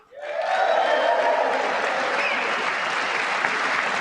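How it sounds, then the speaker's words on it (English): Sustained applause from a large audience in the House chamber during a State of the Union address, greeting the First Lady, Melania. It rises quickly and holds steady and loud throughout, with a faint voice briefly over it. "Melania gets an applause break."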